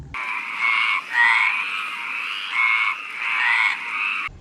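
Loud, close chorus of male frogs: continuous rattling croaks in overlapping pulses that swell and fade, with no other sounds.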